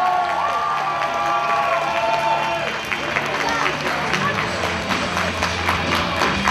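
Audience at a cosplay contest applauding the cosplayers, sustained loud clapping and cheers from a large crowd, with shouts and voices rising over it.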